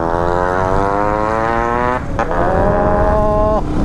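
A Yamaha RX135 motorcycle fitted with a modified silencer runs loud and close, its steady droning engine note dipping briefly midway before climbing again in a short rev near the end.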